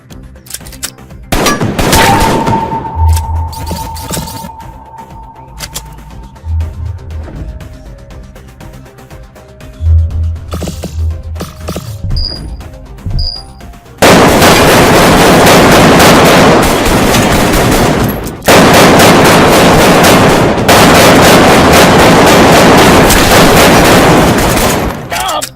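Video game gunfire, including sniper fire: a sharp shot early on, scattered bangs and game noise, then long stretches of loud, dense firing near the end, with someone talking in French over parts of it.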